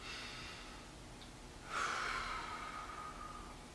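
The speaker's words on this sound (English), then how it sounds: "deep breath." A person takes a deep audible breath during a guided shoulder and posture exercise, a soft steady airflow swelling midway and then continuing close to the microphone with no talking.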